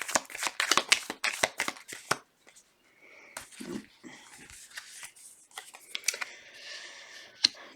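Tarot cards riffle-shuffled by hand in a quick run of crisp flutters, then a pause and a few scattered card slaps and shuffles, close up and fairly loud.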